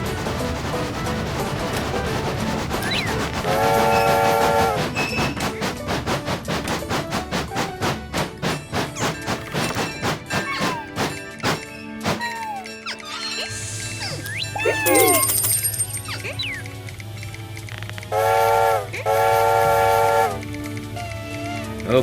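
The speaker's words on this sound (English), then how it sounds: "teaching me how to quill the whistle like that" A steam locomotive whistle is quilled in a railroad video game, rising and falling in loud harmonic blasts between rhythmic chuffing and clanking, with longer whistle calls near the end.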